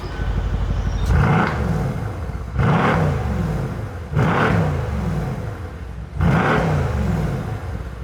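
A Mercedes C63 S, exhaust valves open in comfort mode, revs hard four times in a row, each blip rising to a loud, roaring peak and falling back to a steady, rumbling idle between bursts.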